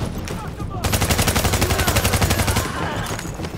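Rapid automatic gunfire in the video game Tom Clancy's The Division, a sustained burst of evenly spaced shots lasting nearly two seconds, loud and close, with scattered shots before and after.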